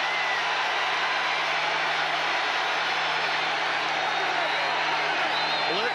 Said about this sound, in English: listen to the crowd start to get into it